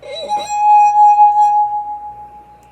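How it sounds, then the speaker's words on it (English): A finger rubbed around the rim of a wine glass draws out a pure, loud ringing tone. A short squeak comes as the rubbing starts, then the tone holds steady and fades slowly. No voices are heard. "when my finger rubs against it, I'm creating sound waves"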